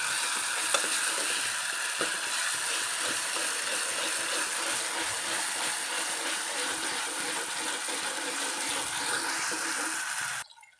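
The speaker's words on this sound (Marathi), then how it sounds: "मसाला तेलात असा फुटला पाहिजे असा मसाला भाजून घ्यायचा" Masala spices roast in hot oil for kata amti, giving a steady dense crackle and sizzle that runs unbroken at close range, then cuts off near the end.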